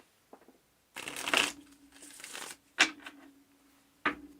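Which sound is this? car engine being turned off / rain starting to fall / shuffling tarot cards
shuffling tarot cards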